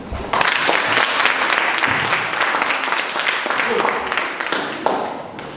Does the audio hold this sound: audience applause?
yes